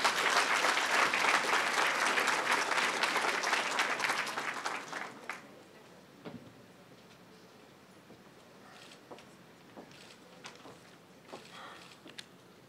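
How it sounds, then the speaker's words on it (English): A crowd at a governor's public announcement event in Hempstead applauds loudly for about five seconds, then the clapping fades into a quiet room with scattered faint taps and shuffles. "Ladies and gentlemen, big round of applause to my friend, your Senator, Carl Marcellino."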